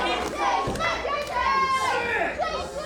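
A wrestling arena crowd roars and shouts continuously at close range, with many voices blending into a loud, wavering cheer throughout.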